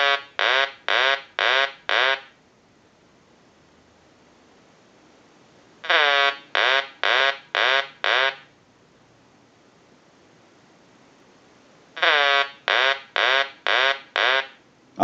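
A Telemania duck novelty telephone rings in electronic bursts of five quick, chirpy pulses, each burst repeating about every six seconds with quiet gaps between.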